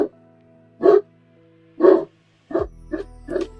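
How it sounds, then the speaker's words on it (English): A dog barks five times at close range, two spaced single barks followed by three quicker, shorter ones, with faint background hum between them. "Can you hear the dog?"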